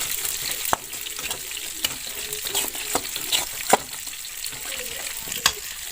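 Cumin, turmeric and coriander powders are stirred in a hot pan for a tomato and mustard fish curry, a close steady sizzle punctuated by sharp irregular spatula clacks against the pan, with no talk.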